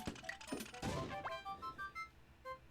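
Rapid overlapping explosions in the Wii Play Tanks video game, a cluster of dull thuds and crashes within a couple of seconds, followed by bright electronic game tones.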